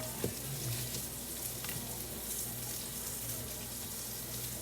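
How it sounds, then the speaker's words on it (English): Chicken pieces frying in butter in a pan, a steady, continuous sizzle with faint crackle that holds evenly throughout, moderately close with no voices. "Getting the rest of these cooked with a little bit more butter in here."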